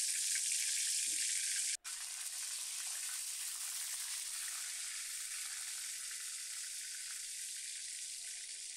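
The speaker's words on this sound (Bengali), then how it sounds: "এবার এই তেলের মধ্যে আমি প্রথমে পেঁয়াজ বাটাটা দিয়ে দিচ্ছি। পেঁয়াজ বাটাটা 5 মিনিট পর্যন্ত আমি ভেজে নেব" Onion paste frying in hot oil for a wedding-style chicken roast, giving a loud, steady sizzle with a brief sharp drop early on, no voices.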